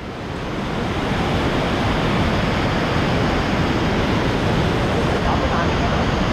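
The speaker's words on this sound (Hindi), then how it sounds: "ये व्यू देखिए भागीरथी नदी का किस कदर इस वक्त उफान पर है" Bhagirathi river rushing in full flood past an iron footbridge at Gangotri after dark, a steady, loud, dense roar of surging water filling the whole clip without pause.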